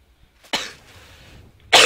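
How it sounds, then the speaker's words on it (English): Two sharp, close coughs from a single person, a short one followed by a louder one about a second later, with near silence in between. "Sorry about that cough."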